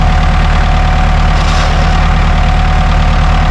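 A Ford 5610 tractor with a front end loader, engine running steadily and loudly up close, a low heavy diesel rumble that holds constant as the tractor is put into gear, with no talking.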